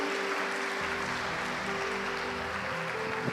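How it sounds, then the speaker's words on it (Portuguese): A church congregation applauds in a steady wash of clapping under a held organ or keyboard tone, fairly distant and moderate in level. "Pode aplaudir Jesus?"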